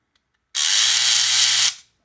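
A Babyliss FX787 hair trimmer with a broken blade and worn screws runs for about a second: a loud, steady, close buzzing whir with a low motor hum underneath, starting and stopping abruptly.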